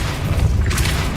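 A Depulso spell is cast in Hogwarts Legacy, a short booming magical burst with a bright swishing tail, loud and close.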